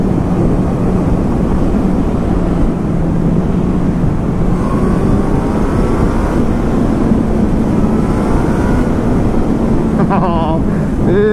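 A 2019 Honda CB1000R Plus motorcycle pulls away hard, its engine a loud continuous roar with wind rush, rising through the gears near the end.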